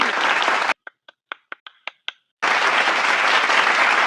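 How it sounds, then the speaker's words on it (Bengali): A short burst of applause from a studio audience at a comedy game show, loud and dense, breaking into a few distinct individual claps before swelling back into full, sustained clapping. "হাততালি।"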